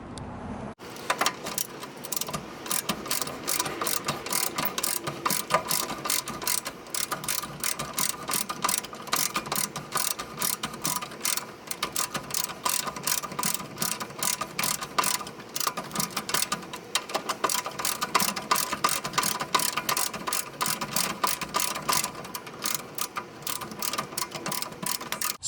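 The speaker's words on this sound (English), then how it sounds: "I'm going to start by removing this bolt here." A ratchet works a suspension bolt loose on a Mazda Miata during a coilover install, with a fast, steady clicking that runs continuously for about twenty-five seconds, close and moderately loud.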